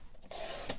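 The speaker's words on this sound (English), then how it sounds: "so now we're going to cut this." Scissors or a trimmer slicing through a 6x6 sheet of fall-patterned paper, cutting it from 6 inches tall down to 2 inches wide: a short, close dry rasping swish with a sharp snip near the end.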